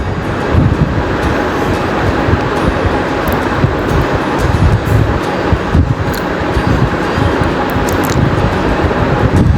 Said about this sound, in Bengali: এখন পেঁয়াজ কুচি, মরিচ ফালি আর রসুন কুচি করে নিয়েছি, সেগুলো এর মধ্যে দিয়ে একটু ভেজে নিতে হবে।